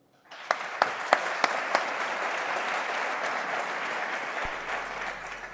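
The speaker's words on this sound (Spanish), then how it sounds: "Le damos un aplauso." A conference audience bursts into steady applause, with a few sharp individual claps at the start, sustained clapping that continues to the end.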